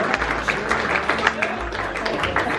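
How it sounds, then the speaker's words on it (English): Audience applause with scattered cheers at the 2019 Theatre Royal pantomime launch in Nottingham, a steady dense clatter of clapping held at an even level throughout. "Give Tina a big cheer."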